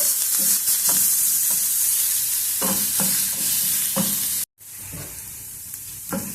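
Onions frying in a pan on low heat, a steady loud sizzle with repeated stirring scrapes and a brief cut near the end, no voices.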